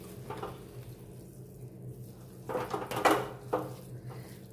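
Edible gum (gond) being stirred in a pan for a winter gond raab, with soft sizzling and frying under occasional scraping bursts of a utensil against the pan, close and moderately loud.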